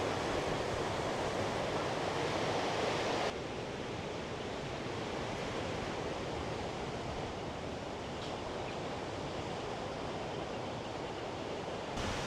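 Sea waves wash around the Tanah Lot sea temple in Bali at ebbing tide, a constant, hissing surf with no voices, dropping slightly in loudness after the first few seconds.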